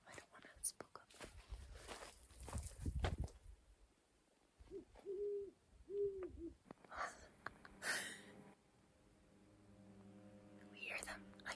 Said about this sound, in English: We're pretty sure that they're great horned owls.